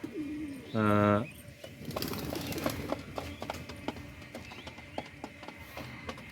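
A male Lahori pigeon coos in a loft, one loud, close, resonant burst early on, followed by lighter rustling, tapping and soft movement noises from the birds.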